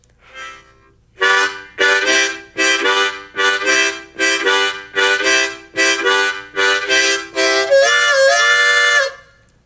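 Harmonica playing the classic train rhythm at a quickened pace, about a dozen rapid chugging chord bursts in steady succession, ending on a sustained wailing whistle-like chord, loud and close with no talk.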